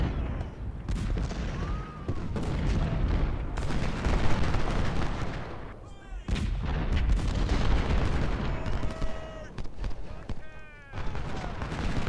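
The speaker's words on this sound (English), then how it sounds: "Gonna try and hit the infantry with the cannons." Repeated cannon blasts boom amid a dense battle din in the video game Ultimate General: Civil War, First Bull Run, with distant gunfire crackling and a few voices shouting in the background.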